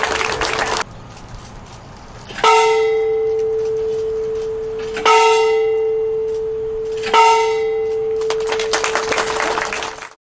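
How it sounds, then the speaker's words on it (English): A large church bell tolls at a bell ringing event, three loud, resonant strikes spaced a few seconds apart, each ringing out and slowly decaying, with a burst of clattering noise at the start and end. "Even the most famous part of the event, the bell ringing, went smoothly."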